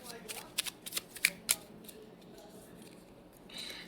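Tarot cards are shuffled before a card is drawn, giving a quick run of crisp riffling flicks followed by quieter card handling, with a voice speaking softly alongside.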